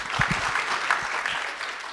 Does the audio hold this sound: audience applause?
yes